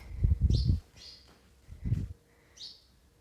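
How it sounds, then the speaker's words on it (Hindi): Birds chirp in short, bright bursts at an old haveli, several separate calls spaced out, mixed with low thumping noises nearby. "चिड़िया साउंड कर रही है"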